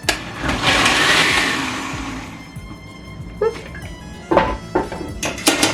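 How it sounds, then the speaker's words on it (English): Blender pureeing chile peppers and garlic for pozole rojo, a broad whirring roar that swells loud early and fades, followed by scattered knocks and thumps near the end. "every time you run the blender you throw one in"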